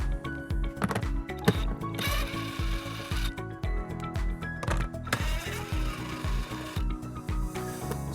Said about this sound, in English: We're going to remove these 2 nuts using a 10mm socket.